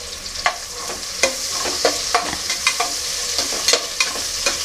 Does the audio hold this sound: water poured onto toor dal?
no